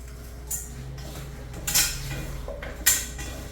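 Spices being stirred into an ivy gourd fry in a pan: a few scattered metallic scrapes and clinks of a spoon against the pan over a low background hum, close and without speech.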